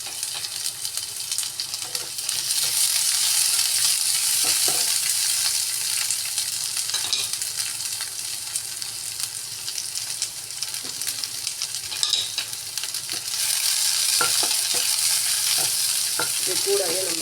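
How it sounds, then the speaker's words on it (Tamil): Chopped onions fry in mustard oil, with a steady, loud sizzle and crackle that holds across the whole stretch and carries occasional stirring scrapes and small pops. "மஸ்டர்ட் ஆயில், கட் பண்ண வெங்காயம் 2 இதில் ஆட் பண்ணுறோம்"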